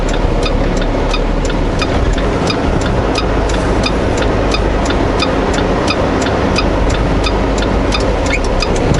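A vehicle towing a trailer creeps along in first gear, its engine a steady continuous rumble with a repeating rhythmic ticking or clatter riding over it, loud and unbroken throughout.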